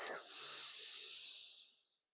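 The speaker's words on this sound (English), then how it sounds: "Slow breath out." A slow, soft breath out during a calm yin yoga session, a gentle airy exhale close to the microphone that fades out after about a second and a half, followed by silence.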